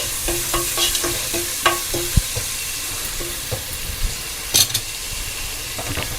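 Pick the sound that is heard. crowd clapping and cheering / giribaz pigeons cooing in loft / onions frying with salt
onions frying with salt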